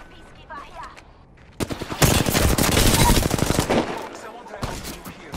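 Gunfire from the Apex Legends game, the Peacekeeper shotgun, comes as a dense burst of rapid loud shots lasting about two seconds. Faint game sounds come before it and sparse clicks follow.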